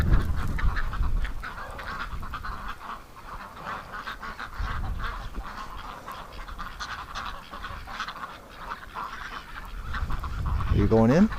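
Farm ducks quack and honk at night near the barn, a busy chorus of overlapping calls that continues throughout, with a person talking over them.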